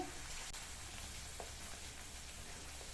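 Biryani gravy paste stirred in a pan over a low flame, soft continuous sizzle with faint scraping of the spoon, quiet and close.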